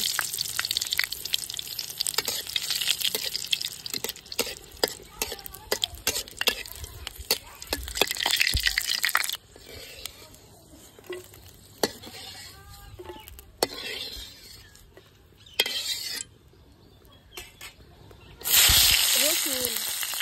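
Chilies frying in oil in a wok for a Bangladeshi vorta, giving a bright steady hiss and crackle with scattered clinks and stirring scrapes, bursts of sizzle returning loud near the end.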